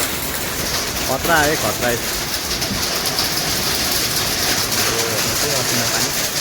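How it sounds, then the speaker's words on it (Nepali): A sudden burst of hail and rain falls as a dense, continuous hiss and patter outdoors, steady throughout, while people speak and call out over it and a bird chirps briefly. "अचानक के भयो हेर्नुहोस् त कस्तो तल असिना पानी आयो"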